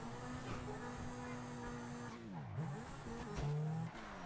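Car engine in GTA 5 Online, a steady droning hum that climbs and drops in pitch, with a brief whine-like swoop midway and a higher tone near the end, under game background sound.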